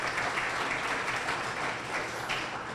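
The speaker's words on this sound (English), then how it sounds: "Give yourselves a round of applause." Audience at a 2014 biotech expo applauding, a dense continuous wash of clapping filling the whole stretch at steady volume.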